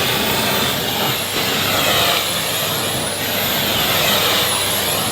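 A Numatic Henry PPR180 vacuum cleaner runs at reduced suction with a steady, loud, close whine and airy roar, its pitch dipping slightly now and then as airflow changes, with no talking.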